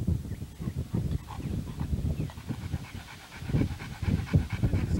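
Dogs in a kennel yard pant hard and continuously nearby, a rapid rhythmic huffing that keeps going throughout with no talking over it.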